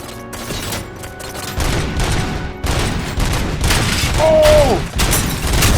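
Heavy gunfire from the RoboCop: Rogue City video game: loud, close bursts of rapid shots that rattle on for several seconds, with booming impacts and a brief rising mechanical whine near the end.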